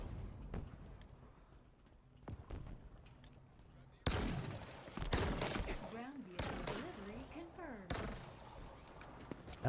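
A shock rifle fires in Halo Infinite, giving sharp electric cracks and bursts amid louder gunfire and explosions during a busy firefight, with a person talking over it.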